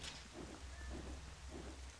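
Rain in the video game Zelda Twilight Princess: a soft, continuous hiss of falling rain with a low rumble underneath, faint and steady, with no music or voices.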